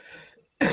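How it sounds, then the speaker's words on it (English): A single short cough, close and alone, brief and throaty like a man clearing his chest before speaking. "And he'll put his hands on his hips and cough,"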